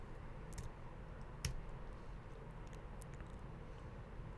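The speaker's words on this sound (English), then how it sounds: "let's hit the backslash key on our keyboard" Several sharp, isolated clicks of a single key being pressed on a computer keyboard, close and quiet against a faint steady background hum, with no talking.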